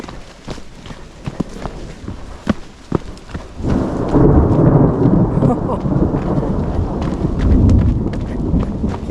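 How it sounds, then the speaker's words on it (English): Thunder rolls across the mountains near Lake Blanche in Utah, a deep rumbling swell that builds and lingers over several seconds after some scattered sharp crackles. "Oh, the lightning. Here comes the thunder."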